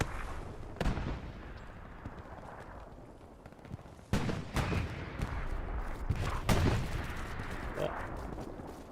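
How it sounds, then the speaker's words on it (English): Heavy self-propelled artillery shells and tank shells fly over and burst in a World War II video game battle, with booming impacts near the start and a cluster of louder blasts and rumbles later. "Heavy shells of the SPA and some tank shells flying over."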